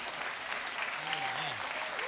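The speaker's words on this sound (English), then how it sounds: "I think you're applauding for vaping." A young crowd applauds, a dense, steady wash of clapping throughout, with faint voices blended in beneath.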